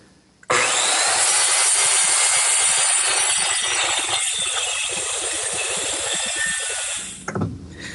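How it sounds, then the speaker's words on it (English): A table saw trims the end of a glued-up wooden butcher block, one continuous loud, close cut with a dense whining rasp held steady for about six and a half seconds before winding down. "the next thing I want to do is trim one end so it's straight and square"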